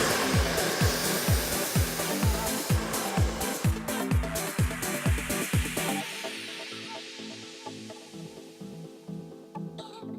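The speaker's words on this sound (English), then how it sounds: "we've completed the blow dry thus far" Hair dryer blowing steadily close up while styling hair for volume in a salon, a strong continuous airy roar with a rhythmic pulsing as the brush works through the roots, then the airflow softens and drops lower.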